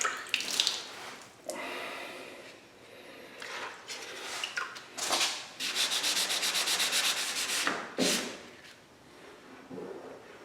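Spot putty is sanded on a clear coat repair, repeated rubbing strokes coming in bursts of varying length, close and moderately loud, with short pauses between passes.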